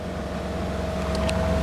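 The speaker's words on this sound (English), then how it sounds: "Just so you can hear the engine. Nice little 4-banger." A 1997 Bayliner 1950 Capri Classic bowrider's four-cylinder engine holds a steady, droning hum at about 3,100 RPM and 15 knots out on the water, with wind and water wash mixed in and no talking.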